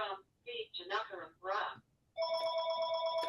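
A phone rings in a lecture audience, its steady electronic ringtone starting after a man's brief speech and continuing unanswered to the end.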